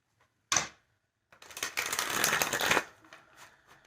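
Tarot cards being shuffled: a short sharp riffle, a pause, then a longer papery flurry of rapid card flicks that tapers off, close and fairly loud with no talking.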